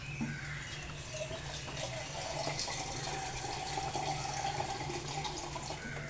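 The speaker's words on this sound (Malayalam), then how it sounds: "ഈ രസം നമുക്ക് ഇച്ചിരി വെള്ളം കൂടി ഒഴിക്കും." Water pours into a pot of rasam as a soft, steady trickling stream heard close and fairly quiet, with a low hum beneath it.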